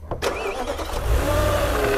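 An Audi 4.2 V8 with replaced, rattling timing gear cranks briefly and fires up. It settles into a loud, close, rough idle.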